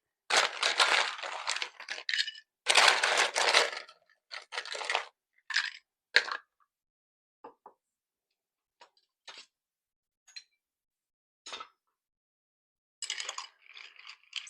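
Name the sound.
stirring ice in a Manhattan cocktail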